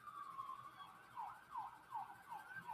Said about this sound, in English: You like the sirens?